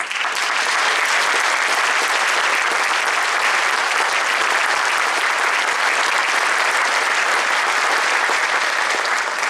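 Sustained, dense applause from a concert audience greeting honor band section chairs on stage, a steady even roar of many hands clapping at full strength throughout, with no pauses.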